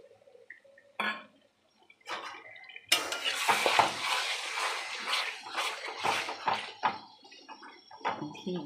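Water is splashed from a rinsed spice bowl into a cooking pot of mutton curry, with a short pour amid clinks of metal bowl and pot, close and moderately loud, with quiet gaps between bursts.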